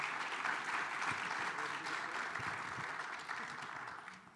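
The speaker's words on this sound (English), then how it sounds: "Can we just give a quick round of applause for our panelists?" A conference audience applauds panelists on a mental health technology panel, producing a steady, moderately loud round of clapping that slowly fades without speech.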